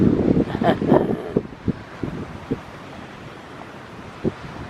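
Wind gusting outdoors across a microphone, with rough low-pitched rumbling buffets that are strongest at first and then ease into occasional softer puffs.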